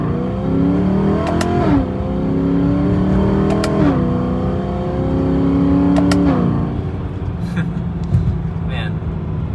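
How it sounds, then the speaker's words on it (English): BMW E92 M3 with DCT and magnetic paddle shifters running through gear changes, its engine revving up and dropping sharply three times in a steady rise-and-shift pattern, loud and close, with brief sharp clicks at each shift. "The ability to feel each tactile click as you upshift or downshift, the sound that it makes really adds to the driving experience."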